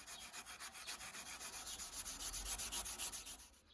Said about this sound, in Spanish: sigo limpiando y puliendo el resto de piezas para que queden perfectas